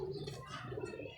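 Domestic pigeons cooing in a close, continuous low murmur, with soft repeated coos layered together and a faint higher chirp or two above.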